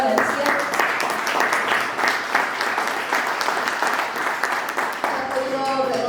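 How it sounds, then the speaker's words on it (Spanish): Audience applause for a woman named Lucía at a political and economic forum on Bolivia's bicentennial, a dense, steady wash of many hands clapping that fills the space and holds strong throughout, with a few voices and cheers mixed in. "Le damos un fuerte aplauso, por favor, a Lucía."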